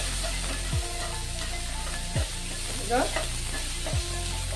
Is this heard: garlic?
yes